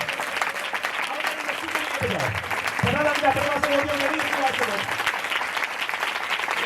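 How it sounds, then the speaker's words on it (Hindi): Loud applause fills a church congregation at a Sunday sermon meeting, sustained clapping throughout with a preacher's voice speaking over it. "जोरदार तालियां बजाइए।"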